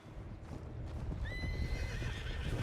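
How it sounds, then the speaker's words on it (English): A horse in the Red Dead Redemption 2 video game lets out a clear whinny over the steady clip-clop of its hooves, fairly close, with no one speaking. "What's wrong with this horse?"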